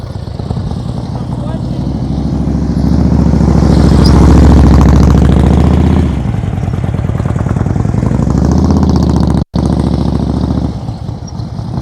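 A motorcycle engine during slow-speed riding practice, with the rider popping the clutch: a loud, steady, close chugging drone that swells and eases, with a brief cutout near the end and voices talking over it.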